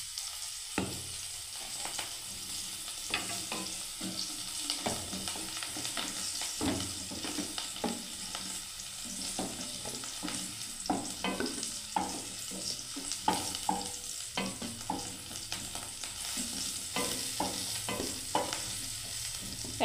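Cauliflower florets fry in a pan of hot oil for a Bengali vegetable curry, giving a steady close sizzle broken by frequent scrapes and clacks of a spatula stirring, with no talk.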